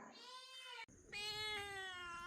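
A kitten gives two drawn-out, high meows close by, the second following a brief pause, clear and fairly quiet with no talking over them.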